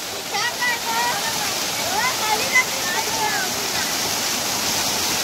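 A rushing waterfall at Mangaon in Sindhudurg, a loud steady roar of falling water close by, with a voice talking over it.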